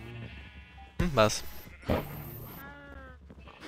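Sheep bleating in the video game Minecraft (Agrarian Skies modpack), two distinct wavering bleats heard near and clear, with a short spoken interjection nearby.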